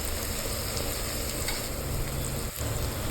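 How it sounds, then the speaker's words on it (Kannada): Onions fry in a pan with salt and green chilli, giving a steady, close, continuous sizzle with faint stirring, no talking over it. "ಸ್ವಲ್ಪ ಸಾಲ್ಟ್ ಹಾಕೋದ್ರಿಂದ ಬೇಗ ಫ್ರೈ ಆಗುತ್ತೆ"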